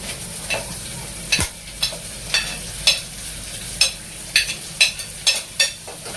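Capsicum and cabbage stir-frying for masala khichdi, loud sizzling with repeated sharp scrapes and clanks of a spatula against the pan at an uneven, quick rhythm, close and without talk.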